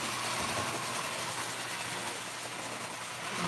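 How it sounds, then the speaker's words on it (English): An O scale model train engine running rough on a layout, giving a continuous, noisy mechanical whir and rumble at moderate level with no voices. "I see that engine's kind of running a little rough."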